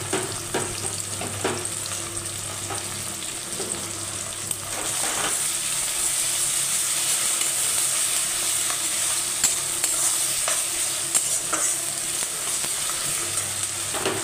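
Chopped garlic fries in a lightly fried spice mixture in a pan for a soybean, potato and egg dish. A constant close sizzle grows fuller and louder partway through, with faint stirring scrapes and no voices.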